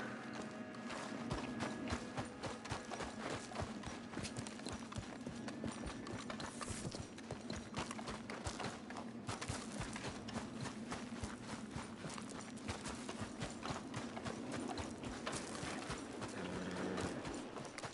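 Horse hooves clip-clop steadily in Red Dead Redemption 2, a continuous walking rhythm heard up close over a constant ambient background, with no talk.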